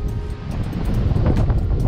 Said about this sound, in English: The wind is, it literally is creepy at how loud it is, how much it's blowing right now